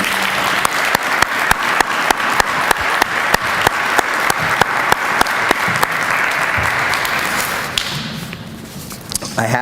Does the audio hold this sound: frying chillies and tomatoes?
no